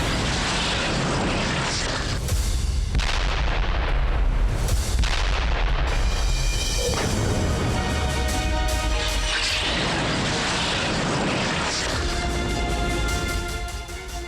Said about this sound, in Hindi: आईडीएफ ने किया हवाई हमला, बेरूत दहला।